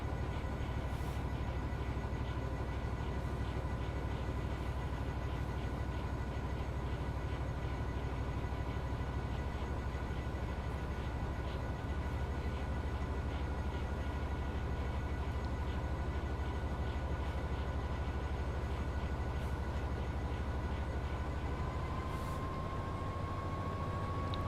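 Heritage train at Didcot running steadily, a continuous rumbling rail roll with a low mechanical drone that holds even and unbroken throughout, with a faint rising tone near the end.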